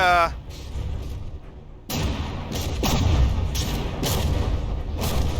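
Naval cannon fire between battleships in the game From the Depths, with deep booming shots and thuds recurring irregularly over a continuous rumbling background.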